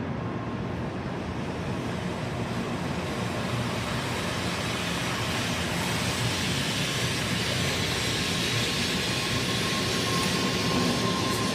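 A continuous broad roar of rushing noise with rumbling from a train moving at speed in Japan, heard from inside, steady and loud with no breaks.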